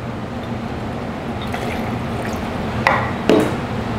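Fresh lemon juice poured for a Clover Club gin cocktail, a soft, faint liquid trickle over a steady low background hum, ending with two brief clinks.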